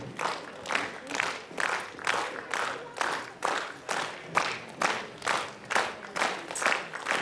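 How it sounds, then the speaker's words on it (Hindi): An audience at a Nyishi art and culture foundation day evening session claps in steady, rhythmic unison, about two beats per second, each burst swelling and fading at moderate distance with faint crowd noise beneath. "दर्शकों प्लीज तालियों की कमी नहीं होनी चाहिए तालियां बजते रहनी चाहिए"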